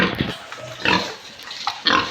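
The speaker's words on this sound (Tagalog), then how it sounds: "Ito, yung nanganak nating baboy. Walo po yung anak niyan." A sow that has just farrowed a litter of eight grunts and squeals in short, close bursts, with brief pauses between them, inside a small backyard pig pen.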